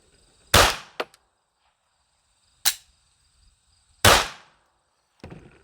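A Sig P211 pistol fires several sharp shots at an uneven pace, each a loud crack with a short decay, separated by quiet gaps, and a metallic clink follows one of them.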